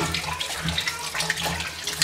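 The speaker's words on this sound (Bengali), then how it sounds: "দেখতেছেন এখন গরুর মাংসগুলো ধুয়ে নিচ্ছি।" Beef being washed under a running tap, a steady splashing water stream with faint sloshing and small knocks, fairly quiet and continuous.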